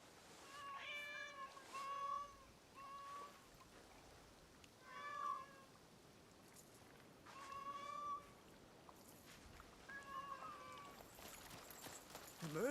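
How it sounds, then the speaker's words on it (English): Many cats meow repeatedly in Assassin's Creed Shadows, a samurai and shinobi game, with several clear, separate meows in bursts over a quiet ambient background. "I'm surrounded by a trillion cats."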